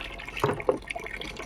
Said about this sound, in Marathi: खूप स्लो पाणी येतं प्रत्येक नळाला वेगवेगळा प्रेशर असतो